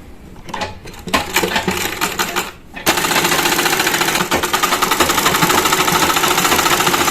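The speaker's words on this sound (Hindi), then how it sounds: "अभी हमें नीचे वाले पार्ट को डबल फोल्ड करके स्टिच कर लेंगे।" A sewing machine stitches a double-folded hem on a three-piece outfit, starting with a few short mechanical bursts, then running in a fast, steady rattling chatter close by.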